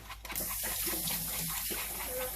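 A dirty kitchen item is rinsed under running tap water while making braided pizza bread, a steady close splashing stream with shifting flow as it is moved beneath the faucet, no talk.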